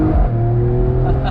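A Mercedes-AMG E53 Cabriolet hybrid pulls hard under acceleration, its engine droning at a steady, loud, close pitch for a brief stretch.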